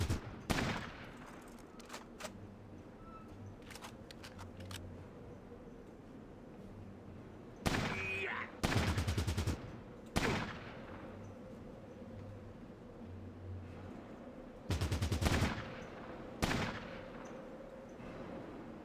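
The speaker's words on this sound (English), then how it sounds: "You guys are shooting in back." Bursts of gunfire in Fallout Tactics, several sharp volleys separated by quieter gaps with low background sound.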